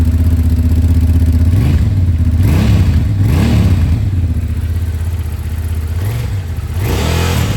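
A loud motorcycle engine idles nearby and is revved several times, each throttle blip rising and falling back to a rumbling idle.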